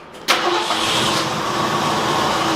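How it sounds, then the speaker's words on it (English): A Ford F100 pickup's engine cranks briefly and catches, settling into a steady, loud idle close by after a freshly set-up carburetor, with no talking. "Give it 2 pumps of the gas, and then crank it"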